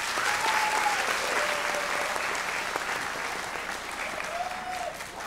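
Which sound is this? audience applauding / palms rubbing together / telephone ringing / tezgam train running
audience applauding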